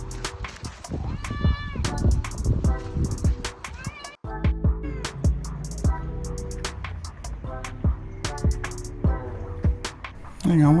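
A cat meows repeatedly indoors, several close, loud cries in an irregular rhythm, mixed with soft thumps and movement sounds, with some brief human talk in between.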